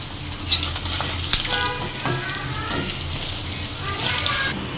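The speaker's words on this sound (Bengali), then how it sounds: "তেলের ভেতরে ছেড়ে দেব এভাবে আস্তে জালে আস্তে আস্তে উল্টায় পাল্টায়" Sesame-coated goat bone kebab frying in hot oil and being turned gently, giving a steady close sizzle with a few brief voice-like sounds mixed in.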